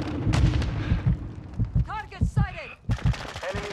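Gunfire in Call of Duty Modern Warfare II, a video game: bursts of shots and booming blasts come in irregular clusters alongside radio-style game voice lines and whooshing effects, fairly loud and close.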